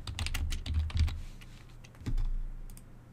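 Quick bursts of typing on a computer keyboard, close and clear: a rapid cluster of key clicks, a pause, then a few more presses with a soft thump, over a faint low hum.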